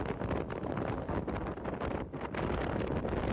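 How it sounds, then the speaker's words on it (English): Strong wind buffets an exposed lookout spot on Dog Mountain, a continuous loud rush and rumble with a brief lull partway through, no voices heard. "This incredibly windy spot is not the nicest place to hang out"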